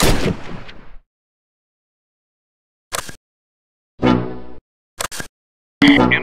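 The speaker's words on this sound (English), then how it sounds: "Mortar barrage available." Mortar barrage in the Close Combat wargame set in Normandy: a heavy blast decays first, then after silence come several separate sharp booming impacts with clipped gaps between them.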